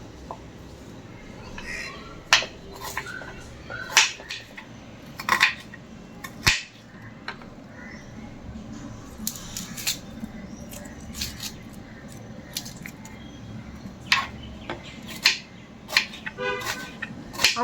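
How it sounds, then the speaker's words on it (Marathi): Thin vertical slices of onion cut with a kitchen knife on a board for crispy crab-style bhaji: sharp, irregular chopping taps spread throughout, fairly close, over a low background hum. "खेकडा भजी करण्यासाठी पातळ उभ्या प्रकारचे कांदे कापावे लागतील।"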